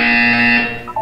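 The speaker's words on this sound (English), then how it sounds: "You will hear a buzzer." A loud, steady electronic buzzer from the Portal 2 video game holds one harsh tone for under a second, then fades into a brief softer chime.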